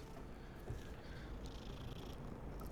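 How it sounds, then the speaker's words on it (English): A cat purring in Hogwarts Legacy, a soft steady rumble that runs on alone without talk. "there's a cat."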